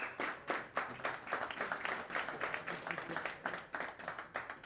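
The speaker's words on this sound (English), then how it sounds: "Please join me in a round of applause." A healthcare-technology panel audience breaks into applause for the panelists, a dense, moderately loud round of clapping sustained for several seconds.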